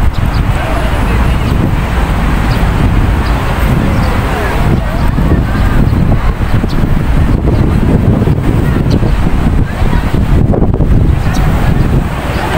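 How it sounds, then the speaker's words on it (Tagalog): Steady strong wind buffets the microphone along a city waterfront, producing continuous broadband roar with no breaks, loud and close throughout. "Mahangin."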